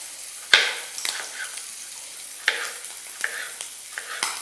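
Diced ham sizzling in a frying pan over low heat, with sharp spluttering pops and crackles breaking out irregularly over a steady soft hiss.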